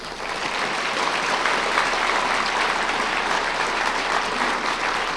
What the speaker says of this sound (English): if we could give him a quick round of applause on that